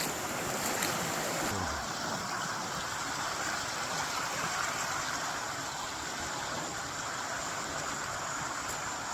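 Small river rushing through a jungle, a steady broad wash of flowing water heard close and continuous, with a brief knock near the start.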